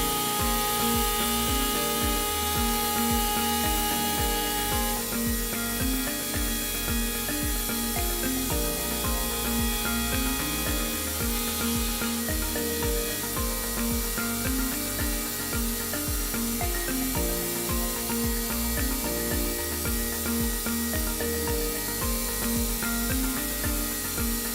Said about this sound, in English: The first work step here is to prepare the surface with the 8 mm router bit.